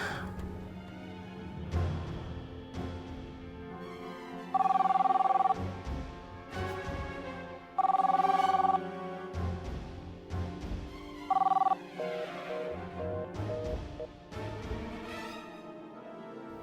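A telephone rings in three bursts, a shrill electronic trill cutting through soft background music, the last ring cut short.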